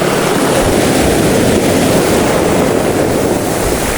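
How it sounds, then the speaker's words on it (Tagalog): Ocean surf breaking at a shoreline fishing spot in Real, Quezon, a steady loud wash of waves with broadband rushing noise and wind buffeting the microphone throughout. "Nilalaki na ng alon ah."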